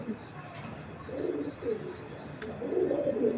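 Racing pigeons nearby give soft, low cooing in short repeated phrases over a quiet background, with faint handling noise.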